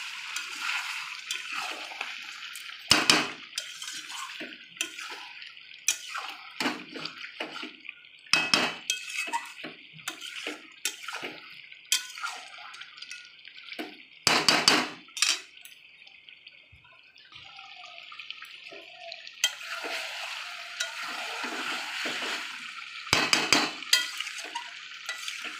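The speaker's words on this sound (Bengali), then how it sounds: "যে মাংসের যে জলটা আছে এটাই একটু একটু করে দেবো, একটু একটু দেবো, আর মাংসটা আমি নাড়তে লাগবো" Meat being stirred in a pan as meat stock is added bit by bit, with loud clattering strokes of a metal spoon against the pot over a quiet sizzle, in bursts across the stretch.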